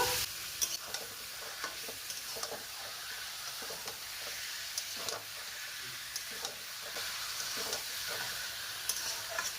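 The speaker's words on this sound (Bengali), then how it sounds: "মাংস মশলাকে কিছুক্ষণ কষে নেব।" Chicken and spice paste fried in a pan for a chicken and potato curry, giving a constant close hissing sizzle with frequent light spatula taps and scrapes, steady throughout, no talking.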